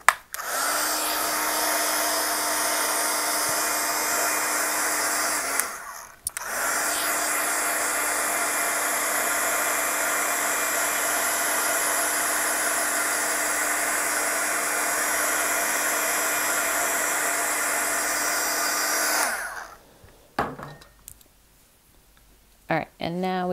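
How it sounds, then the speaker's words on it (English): A handheld hair dryer blows over a wet watercolor mushroom painting, a loud steady whooshing hum for several seconds, a quick break, then a long continuous run before switching off with faint handling noises after. "Let's hit it with the dryer real quick."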